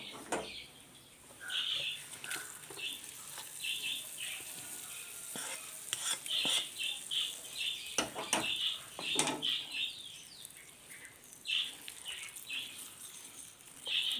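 Sizzling chilli tempering poured into a pumpkin curry, a hissing crackle with clinks of metal utensils against a pan in scattered bursts, moderately close and without talk.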